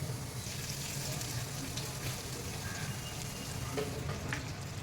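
Bangda (Indian mackerel) marinated in masala frying in a pan, giving a steady, dense sizzle that holds even and unbroken throughout with no voices.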